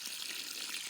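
Spring water pours steadily from a pipe and runs back into the rock, a faint, even hiss of flowing water with no break.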